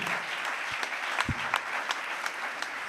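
Congregation at a church service clapping and cheering, a dense sustained applause with scattered louder individual claps standing out.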